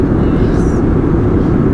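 A passenger airplane cabin in flight toward Toronto fills the space with a steady, loud, low engine and airflow roar that never changes.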